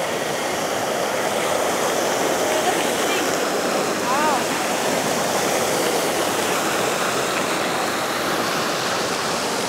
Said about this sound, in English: This is one of the few fountains that are on the university